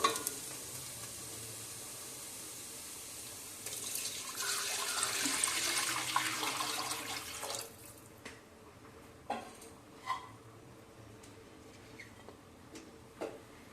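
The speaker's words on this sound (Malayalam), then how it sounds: "ഉള്ളി വാടി വന്നിട്ടുണ്ട്. അതിലേക്ക് നമുക്ക് വെള്ളം ഒഴിക്കാം." Water poured into a pan of softened sautéed onions while ghee rice is being cooked, giving a loud, steady sizzle and hiss that builds for several seconds. The sound then drops off, leaving a few faint clinks and taps.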